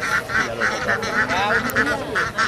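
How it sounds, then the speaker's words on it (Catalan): Ducks being herded at the Alguaire fig fair give repeated nasal quacks in a steady run of calls, close and fairly loud, over a busy outdoor background. "Ara ho fan els ànecs."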